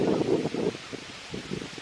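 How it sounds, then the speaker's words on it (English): Outdoor wind gusts buffet the microphone in low rumbling bursts, strongest at the start and again near the end, with no speech. "Forgive me because it's a little bit windy."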